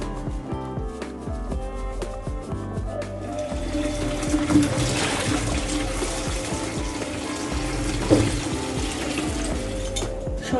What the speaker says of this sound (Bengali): সবজিগুলো ধুয়ে নিয়েছি